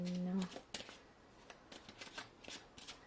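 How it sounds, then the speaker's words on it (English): A deck of tarot cards gets a quick shuffle, soft papery riffles and taps coming in short bursts, quiet and close, after a brief hum at the start. "let me just give it a quick shuffle"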